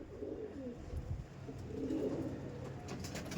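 Low, murmuring coos from a female pigeon in a Behala pigeon loft, steady and fairly quiet against faint background noise, with no talking.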